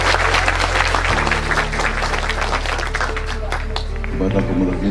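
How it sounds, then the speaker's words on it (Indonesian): An audience claps at an Indonesian cultural discussion forum, a loud sustained round of applause with a voice speaking over it. "Kita tepuk tangan yang meriah dan penuh cinta"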